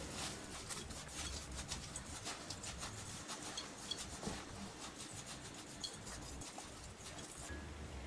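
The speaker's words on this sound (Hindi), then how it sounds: "अच्छे से मिक्स करेंगे।" Oats Manchurian dough of oats, cornflour, flour and salt being stirred and mixed in a bowl, with a steady close rubbing, scraping texture and faint clinks throughout.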